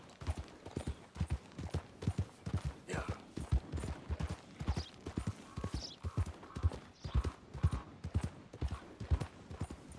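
Horse hooves clip-clop in a steady walking rhythm in Red Dead Redemption 2, quiet and fairly close, with faint background ambience and no voices.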